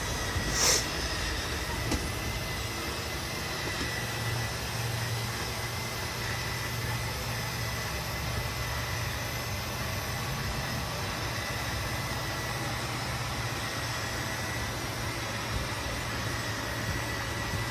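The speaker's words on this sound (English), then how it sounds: "All these slide outs are Schwintek motors on them, so they're all electric slide outs" Electric Schwintek slide-out motors on a 2022 Jayco North Point 380RKGS fifth-wheel RV, a steady low mechanical hum and drone running continuously as the slide-out moves, with no talk.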